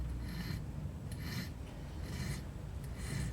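A file rasping along the bevel edge of a carving tool held on a solid wood block, in four steady back-and-forth strokes, close and alone.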